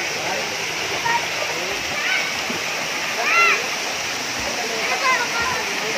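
Mountain water flows and splashes in a loud, steady rush that stays constant throughout, with a voice heard faintly over it.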